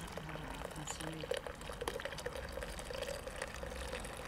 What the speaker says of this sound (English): after removing all my tea bags, I'm just going to strain this into my kettle